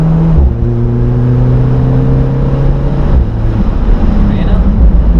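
An Alfa Romeo 4C accelerates on a coned test track, its engine note climbing steadily through the gears and dropping briefly before pulling again, close and loud, while an instructor talks from inside the car.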